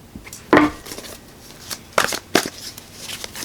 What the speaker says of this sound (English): let's pull final cards from the